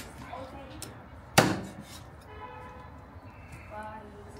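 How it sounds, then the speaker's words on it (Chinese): A free-range chicken is chopped into pieces in a home kitchen, with one sharp, loud chop standing out amid quiet background noise and conversation. "回来就把这个鸡给剁上"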